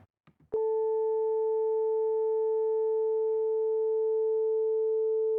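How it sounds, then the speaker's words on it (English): A steady pure electronic tone at a single frequency, illustrating electronic noise, starts after a few brief clicks and holds unchanged and fairly loud to the end. "So it's just that toning sound. It's sometimes very low, a particular frequency."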